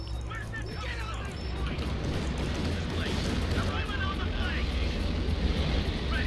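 Aircraft drone overhead in the Company of Heroes 2 strategy game, a dense, steady roar blended with battle rumble and distant explosions, with voices talking over the noise throughout.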